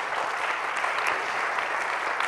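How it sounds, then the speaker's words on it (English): An audience at a symposium on James Baldwin applauds, a steady, fairly loud patter of many hands clapping at an even level throughout, with a few sharper claps standing out. "So I want to applaud Hilton for that"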